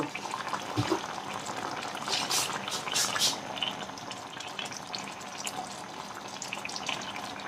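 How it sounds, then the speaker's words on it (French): A tajine of meatballs with prunes and mushrooms simmers on the stove, giving a steady low bubbling with soft hissing. A few brighter splutters rise briefly early on. "Regardez-moi ça, que ça mijote. Ça mijote."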